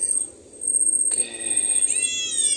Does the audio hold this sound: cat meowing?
yes